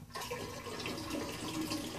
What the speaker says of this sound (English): now we're going to fill it up with cold water